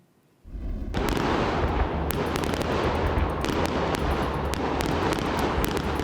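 Fireworks set off on private property in Saskatoon for a Labour Day weekend night erupt after a brief quiet start into a dense, continuous crackling barrage, with sharp loud bangs cutting through at intervals.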